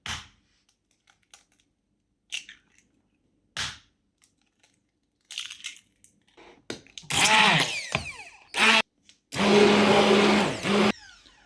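Eggs and plantain batter whir in a blender in a few loud, rough pulses that grow longer toward the end, after a stretch of near silence broken by scattered clicks and knocks.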